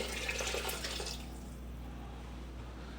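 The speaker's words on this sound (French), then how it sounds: "Ici, on va mettre 700 g d'eau." Water, 700 grams of it, poured into a Thermomix TM7 bowl for carrot soup, a steady close splashing rush that fades after about a second into a low, even flow with no voices.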